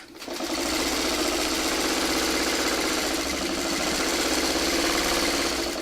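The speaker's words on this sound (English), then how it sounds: "I'm going to start my stay stitching on this side" A sewing machine stay stitching within the seam allowance of a straight-grain fabric piece, running with a steady, rapid mechanical whir after a short start-up.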